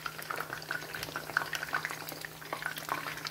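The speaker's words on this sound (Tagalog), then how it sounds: "I will boil this one with boiled water and tomato paste and fresh tomato with onion" Water boiling with tomato paste, fresh tomato and onion in a pot, a faint steady bubbling and simmering crackle with a low hum underneath, no voices.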